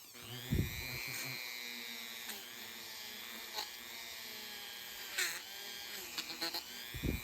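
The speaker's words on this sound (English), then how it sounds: "I'm going to take the Dremel and go around the seat of the gate" A Dremel rotary tool grinds crud off the seat of a brass gate valve, giving a steady, high-pitched electric whine with a few brief scraping bursts as the bit works around the seat.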